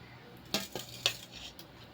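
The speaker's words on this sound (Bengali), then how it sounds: "তোমাদের প্লেটে তুলে দেখাচ্ছি কিরকম হলো" Cooked katla fish curry being served onto a plate, with a few sharp clinks of a utensil against the dish spaced through a quiet kitchen.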